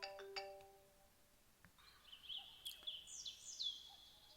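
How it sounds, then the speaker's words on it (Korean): A phone rings during a science lesson, a faint electronic ringtone of repeating tonal chimes heard alone and at a distance against quiet room tone. "지금 또 전화가 오죠"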